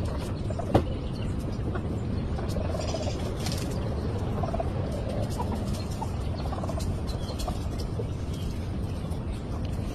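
Constant clucking and squawking from a crowd of fowl, with a sharp squawk early on, steady and fairly close throughout.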